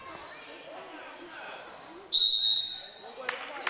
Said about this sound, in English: Whistle on a jump ball.